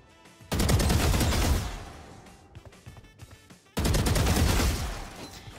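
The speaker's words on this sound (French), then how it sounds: "vous allez tirer sur le premier, puis le deuxième" Automatic rifle fire in a first-person shooter aim drill against two nearby bots, with two long sustained sprays of rapid loud shots separated by a quieter gap with scattered impacts.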